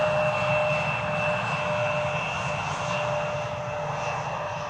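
A KLM passenger jet arrives at Amsterdam Schiphol Airport, its engines giving a loud, steady roar with a sustained whine that fades slightly over a few seconds.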